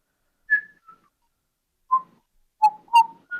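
Someone whistles a few short, clear notes with gaps between them: a single tone, a pause, then a quick cluster of rising and falling pitches, faint and close in an otherwise quiet room.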